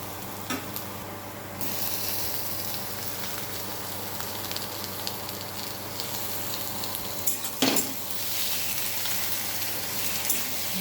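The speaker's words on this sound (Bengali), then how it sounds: "এবার টমেটো কুচিগুলো দিয়ে দেবো।" Chopped tomatoes hitting hot oil in a pan for a spicy eggplant dish: a steady close sizzle with intermittent scraping of a spatula and a couple of sharp clatters, no talking.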